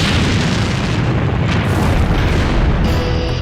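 A loud, sustained roaring rumble of a Titan IV rocket explosion fills the whole clip, dense and continuous, like a massive blast heard up close.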